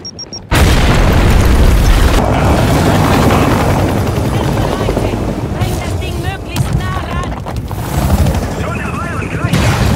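Grenade explosion in Gears of War 5: Hivebusters, a sudden loud blast after a brief quiet start, followed by sustained roaring rumble with scattered crackles and bursts.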